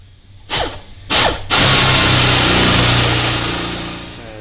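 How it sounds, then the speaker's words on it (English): A power drill bores holes to mount a tool box on a mower: two short bursts of the drill, then a loud sustained whir that slowly fades, close up with no talking. "I've got my two holes drilled"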